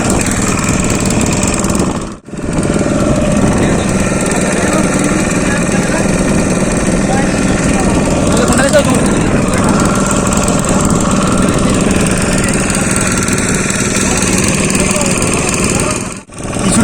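A motorboat engine drones loudly and steadily up close at sea, with a steady rumbling hum and two brief dips, while voices speak over it.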